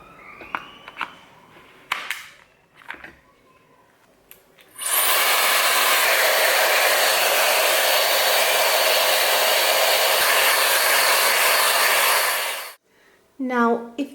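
A Shark Flex Style hair styler blows a loud, steady rush of air for about eight seconds, starting abruptly and cutting off, with brief handling noises and a short whine before and after.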